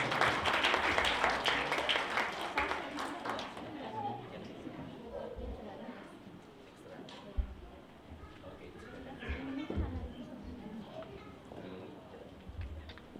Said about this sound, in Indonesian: kita beri tepukan buat sekolah minggu kita